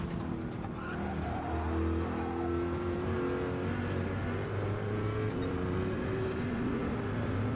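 A Chevrolet Corvette Gr.3 race car in Gran Turismo 7 drones steadily at high revs, its engine note holding a continuous, moderately loud tone with slight pitch shifts and tire noise as it powers through a lap.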